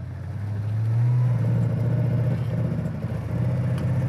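A 1965 Ford Mustang convertible engine pulls away from first gear, a loud steady low rumble that rises slightly as the car accelerates, heard up close with no talking.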